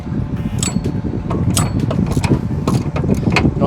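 Rapid ratcheting clicks from a wrench loosening a 14 mm bolt above the alternator of a Honda Accord, a close, busy metallic chatter with sharp ticks scattered throughout.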